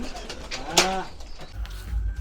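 Pigeons in a village coop give a single close, loud coo, with voices talking quietly around it and low rumbling handling noise near the end.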